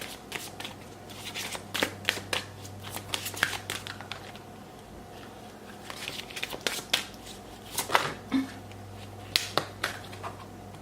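A deck of law of attraction cards is shuffled close by, giving a series of soft irregular flicks and snaps with quiet gaps between them.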